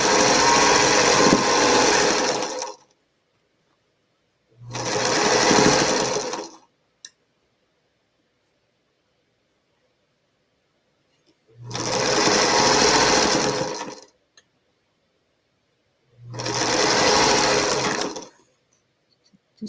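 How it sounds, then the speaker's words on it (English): A sewing machine stitching a quilt block runs in four steady bursts of two to three seconds each, separated by short silences, loud and close with no talking. "I'm still sewing."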